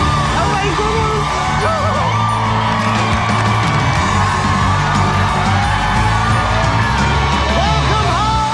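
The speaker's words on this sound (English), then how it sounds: "Hear all that screaming" A large crowd screams, yells and whoops continuously at a home makeover reveal, loud and sustained with overlapping cheers close by.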